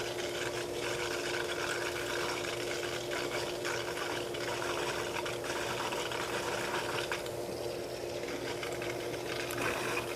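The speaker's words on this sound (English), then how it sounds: "You can hear that air being dislodged coming back into the flush cart." Air is flushed from a heat pump ground loop into a flush cart at about a quarter throttle, a continuous churning, gurgling rush of water and pump noise with a steady hum, unbroken for the whole stretch.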